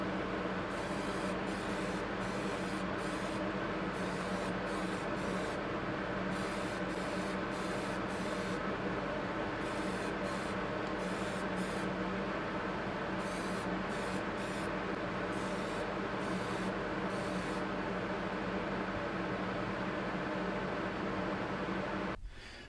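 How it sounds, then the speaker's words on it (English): An extractor fan in a spray-painting workspace roars with a loud, steady, close broadband whoosh that continues unbroken for the whole stretch, with no talking. "I will quickly put the extractor on"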